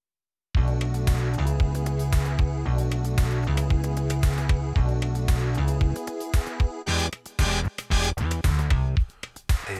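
Korg Wavestate synthesizer playing an 80s pop beat: steady programmed drums with sustained synth chords and bass, loud and continuous, shifting into a sparser, choppier drum-and-stab section toward the end, with no talking.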